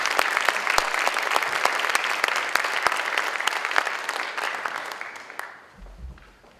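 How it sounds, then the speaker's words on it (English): A gala audience applauds in a full, sustained wave of clapping that thins and fades out near the end. "let's give her a round of applause"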